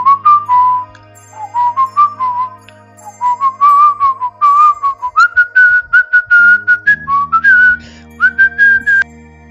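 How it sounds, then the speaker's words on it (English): Someone whistles a bouncy melody up close, in AI-generated music, notes rising and falling in short phrases with brief pauses between them. "whistling."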